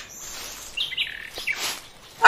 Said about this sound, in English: that looks like a new bird